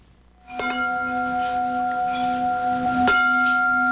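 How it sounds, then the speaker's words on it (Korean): A bell rings to call mealtime at a free meal programme serving elderly people and the homeless, with a steady sustained tone that swells in, plus a second clear strike near the end, close and fairly loud. "식사 시간을 알리는 종이 울리고"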